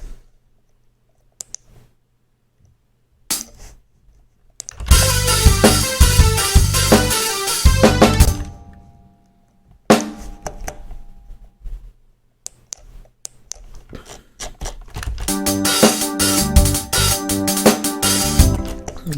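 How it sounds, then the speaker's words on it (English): Programmed MIDI hi-hat notes at identical velocity fire in rapid, mechanical bursts with a machine-gun quality, separated by short clicks and gaps, loud and dry. "this sounds like this machine gun effect you have often with a MIDI file"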